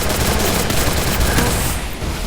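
Double sniper rifle fire in a third-round video game match, a dense loud burst of overlapping shots and booms sustained throughout with no pause.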